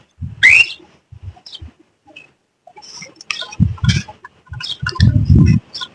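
A chicken gives a few short, sharp squawks and clucks, scattered between soft thumps and quiet stretches, close by.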